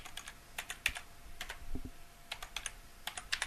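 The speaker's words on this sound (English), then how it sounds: "I'll quickly add a password in here." Quick bursts of key presses on a computer keyboard as a password is typed, close and fairly quiet, in short irregular clusters with brief pauses.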